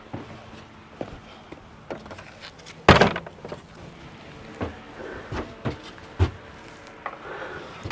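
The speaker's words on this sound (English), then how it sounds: "Just going to open the door properly." A shed door being opened in a garden shed, a single loud wooden knock or bang partway through, followed by a few quieter thumps and creaks nearby with no talking.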